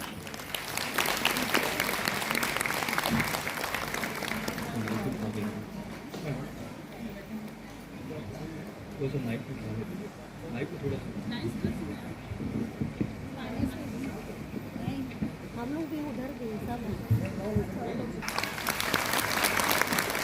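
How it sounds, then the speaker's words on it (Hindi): An audience at a Women's Day celebration in Raigarh, Chhattisgarh, applauds loudly to welcome the mayor. Clapping swells at the start, thins as voices talk over it in the middle, and rises again at the close. "जोरदार तालियों के साथ करेंगे।"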